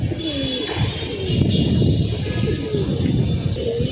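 Pigeons in a loft coo repeatedly in soft, rolling calls over a constant low background hum, fairly close and steady throughout.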